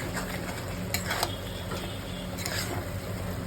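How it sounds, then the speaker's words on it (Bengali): A spoon stirs grated coconut into boiled papaya in a pan for a vegetarian Bengali papaya ghonto, giving soft continuous scraping over a faint sizzle with a couple of sharper clinks against the pan. "পেঁপে সেদ্ধ হয়ে গেছে, উপর থেকে নারকেল কোড়া দিয়ে দেবো, তারপরে মিশিয়ে দেবো।"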